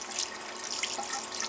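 Water rushing steadily from a water heater drain valve during a flush, a continuous hissing splash at close range with no voices.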